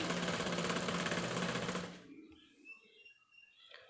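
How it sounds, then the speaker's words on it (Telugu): A sewing machine stitching a fall onto a saree runs in a steady, fast mechanical whir for about two seconds, then stops, leaving quiet handling sounds. "నేనైతే నార్మల్ మిషన్ మీద చూపిస్తున్నాను ఫాల్ వేయడం"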